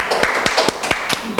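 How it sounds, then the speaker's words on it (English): A handful of sharp, separate hand claps from a small audience after an interview, close and fairly loud, over a brief span. "Applause"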